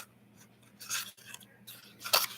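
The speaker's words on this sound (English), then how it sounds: "And I keep cutting. All right, cut this here." Scissors cut through a cardboard toilet roll for a craft barrel, giving a few short, close, crisp snipping bursts separated by brief pauses.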